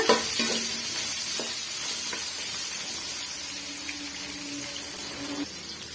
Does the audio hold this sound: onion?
yes